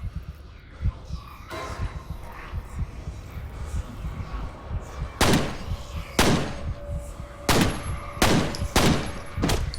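Gunfire in the first-person shooter video game F.E.A.R., a series of loud booming shots spaced about a second apart over a rumbling ambient game soundtrack.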